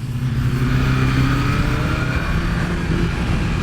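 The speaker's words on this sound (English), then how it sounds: "you can literally have this bike cruising around in low RPMs" A BMW S1000RR motorcycle engine cruising at low RPM, a steady, loud mid-low drone holding throughout with no pauses or talk.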